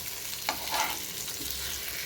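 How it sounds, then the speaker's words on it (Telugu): Fish pieces (bomme, Bombay duck) coated in spice masala sizzle steadily in a frying pan, a continuous soft hiss with a few brief brighter crackles, no voices. "fish fry వేగినాయండి"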